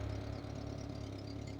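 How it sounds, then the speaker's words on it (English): An engine running on freshly added ethanol fuel idles with a steady low, throbbing hum, continuous and moderately loud with no other sounds. "Now it's idling, because I poured in"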